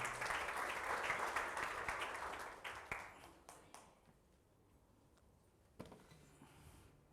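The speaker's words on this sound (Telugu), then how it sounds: "అందరూ గట్టిగా చప్పట్లు కొట్టి ప్రభు నామమున కనపడదాం" A congregation at a Telugu worship service claps loudly in a dense, sustained burst that gradually thins out and fades to scattered claps, with faint voices in the background.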